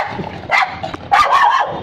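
A dog barks several times in quick bursts inside a pigeon loft, loud and close, with short pauses between the yaps.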